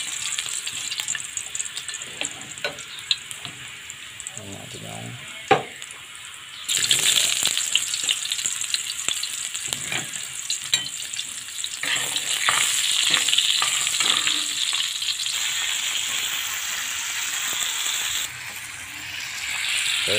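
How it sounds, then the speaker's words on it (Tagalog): Ingredients for duck adobo sizzle in a pan in a steady hiss that swells loudly as more food goes in, with occasional stirring scrapes and clatter. "magigisa na tayo"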